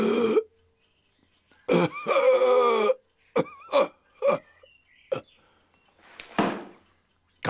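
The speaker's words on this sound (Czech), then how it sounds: "Kašel, suchý kašel, návštěva lékaře nutná." Voiced coughing and throat-clearing from an animated piglet character, heard as several short, separated bursts with strained, groaning edges, close and fairly loud with silent gaps between.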